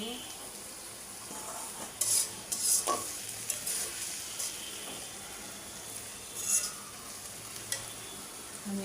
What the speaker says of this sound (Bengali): দিয়ে ভালো করে কষায় নিব আমার পেঁয়াজ আদা রসুন টমেটো ভালো করে কষা নিয়ে আসছে